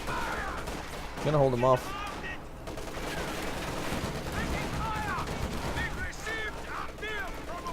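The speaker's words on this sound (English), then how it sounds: "Yeah, there's the MG-34." MG-34 machine gun fire in the video game Company of Heroes 2, bursts of rattling shots amid battle noise, heard under an excited commentator's voice.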